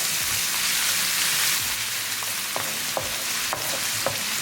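Ginger and garlic fry in a pan with a bright, steady sizzle, broken by a few sharp scraping stirs and taps toward the end.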